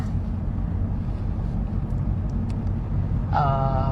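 A car driving along a road near mountain countryside, steady loud engine and road rumble with wind noise from inside the vehicle, a brief chime near the end, no talking.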